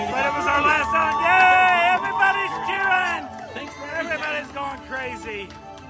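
A crowd cheers and whoops after the final ride on the Dinosaur attraction, with loud, sustained excited voices and high shouts overlapping continuously close by.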